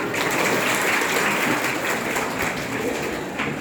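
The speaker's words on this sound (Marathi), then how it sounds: "त्यांच्यासाठी पण टाळ्या वाजवा जरा" Steady applause from a seated audience at a college talk fills the room, a dense continuous patter of many hands clapping at even loudness throughout with no voices on top.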